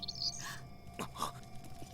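A small bird gives a few faint, quick chirps in Fire Emblem: Radiant Dawn, set against a quiet, hushed background with no talking.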